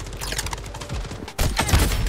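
Rapid gunfire bursts from the mobile shooter Blood Strike, dense and continuous, with a louder, closer volley kicking in midway through the clip.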